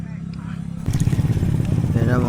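Motorcycles pass along a busy provincial street, engines droning and rising as they go by at close range, with a person talking over the traffic noise.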